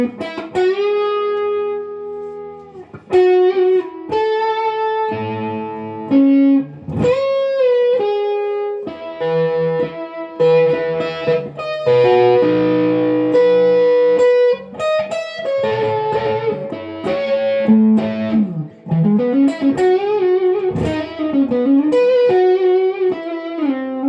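An electric guitar plays a run of sustained notes and chords through a fuzz pedal feeding a warm drive pedal, thick and saturated, close and loud with brief gaps between phrases.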